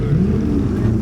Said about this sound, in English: And the BMW is still revving.